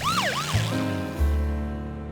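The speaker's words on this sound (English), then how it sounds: "George always wanted to ride in an ambulance," A cartoon ambulance siren wails in rising and falling sweeps, then gives way to steady droning tones and a low rumble, close and clear with no talking.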